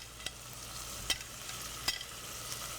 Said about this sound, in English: we're going to add our beef in. And you hear that nice sizzle?